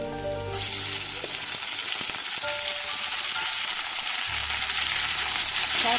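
Water spinach greens tossed into hot oil with onion and garlic in a pan, frying with a loud, steady hiss that swells sharply as they hit the oil and continues with stirring scrapes throughout.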